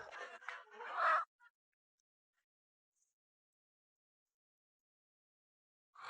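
A chicken clucks and squawks briefly at the start, then near silence, with another short cluck at the end.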